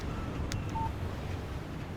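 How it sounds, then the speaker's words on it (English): A phone in the Alan Wake video game gives a text message notification: one short, faint electronic beep over a low, steady background hum. "Text message from Barry."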